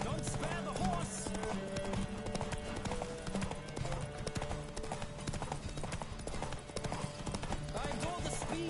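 Horse galloping in The Witcher 3: steady clip-clop of hooves at speed under dense game music and ambient noise, with voices talking over it.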